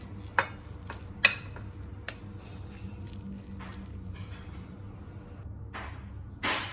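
A spoon mixes a cheese, egg and potato mixture in a bowl, with sparse soft ticks and occasional clinks against the bowl over a low, quiet background hum. A brief rustle comes at the end.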